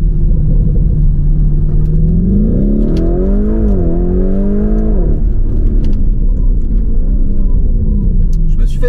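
Lamborghini Urus fitted with a Milltek exhaust accelerating hard, a loud, deep engine roar with rising and falling gear-change pitch sweeps, close and powerful, settling into a rumble afterward.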